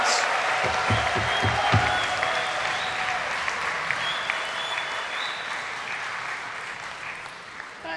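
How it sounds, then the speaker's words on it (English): Graduation ceremony audience in a hall at the University of Dundee breaks into dense, sustained applause and cheering, with a few heavy stomping thuds early on, loud and continuous throughout. "Let's hear some applause, some cheering, some stomping of feet."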